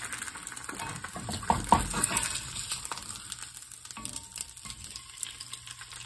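An egg frying in a pan for a fried egg and cheese sandwich gives a steady close sizzle, with a few brief clinks and scrapes near the start before it settles into soft, continuous crackling.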